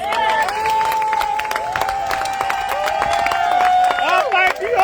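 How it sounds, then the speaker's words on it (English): Crowd at an outdoor rally in Washington, DC clapping and cheering with shouts and voices mixed in, while a sustained tone runs under the noise. "This this round of applause, I will tell you the truth, it is too small."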